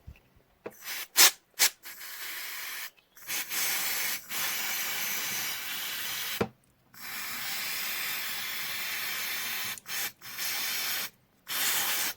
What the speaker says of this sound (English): let's give it a squirt with some parts cleaner